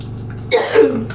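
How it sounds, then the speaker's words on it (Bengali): A single close cough or throat-clearing burst from a person who has been unwell and taking medicine, sharp and loud in the middle of an otherwise quiet indoor moment, with no speech. "কাশিও চলে আসছে।"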